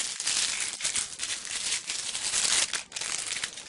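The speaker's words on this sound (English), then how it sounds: "So I'm going to crumple this red here." Scraps of red heat transfer vinyl foil are crumpled by hand, close and loud, a continuous crackling crinkle with sharp bursts and a short pause near the end.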